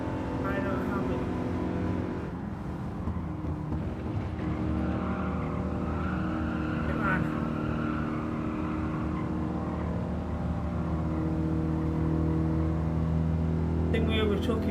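Gran Turismo 7 race cars roar through a close National B race, engines droning steadily with tire squeal and revving under continuous commentary.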